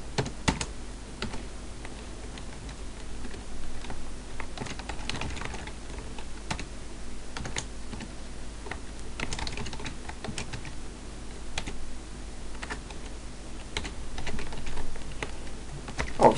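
Steady clicking of a computer keyboard as code is typed, with irregular key taps and occasional heavier strokes, close and fairly quiet, no speech.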